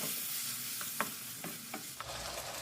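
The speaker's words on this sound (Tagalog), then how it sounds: "Ayan, papula-pulahin lang natin ang pork." Marinated pork browning in a pan with sautéed garlic, a continuous close sizzle broken by several soft stirring scrapes.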